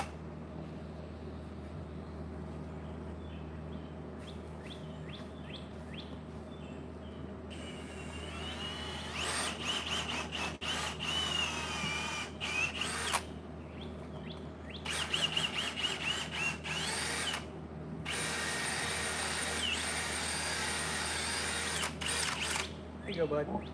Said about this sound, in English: I'm gonna go around here and drill out his little cane bolt thing.